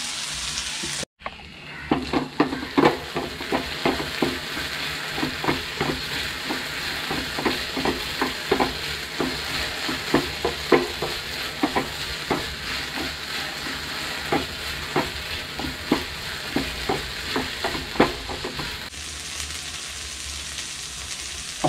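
Potatoes fry in a hot pan while being stirred, a steady sizzle broken by frequent scraping and tapping strokes of the spoon for about twenty seconds, close and loud, with no voices.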